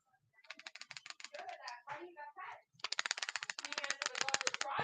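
A plastic blade bait fishing lure clicks in rapid, dense bursts of sharp ticking, with a short pause in the middle and a faster, louder run after it, close up, and a voice partly overlapping.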